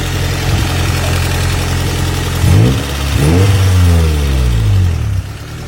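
Toyota MR2 with a 1.6-litre four-cylinder 4A-GE twin-cam 16-valve engine idling, then blipped through several quick revs that rise and fall, close and loud with no talk.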